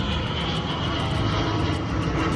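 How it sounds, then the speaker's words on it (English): An airplane flying overhead near a skate park in Colombia, a steady, fairly loud engine roar that fills the whole moment outdoors with no talking. "There's a plane coming."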